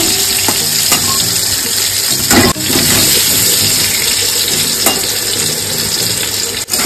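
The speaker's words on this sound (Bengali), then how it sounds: "আলু লাল লাল করে এসছে, কড়া করে ভেজে নেব।" Potatoes deep-frying in oil for a Bengali chicken kosha, a loud, steady, dense sizzle with occasional stirring clicks close by.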